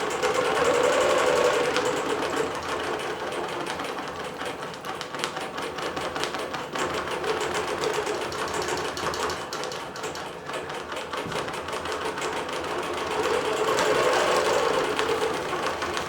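A computerized quilting machine fitted with an 80 jersey stretch needle stitches a busy quilt, a loud, continuous rapid mechanical chatter throughout with no voices.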